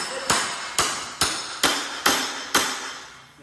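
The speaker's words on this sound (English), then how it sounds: "I'm just gonna take a cat's paw and my hammer and literally just bang underneath it" Six sharp metallic bangs ring out at an even pace as a hammer drives a cat's paw pry bar beneath a heavy steel sheet on a CNC plasma table, each strike loud and close with a short ringing decay.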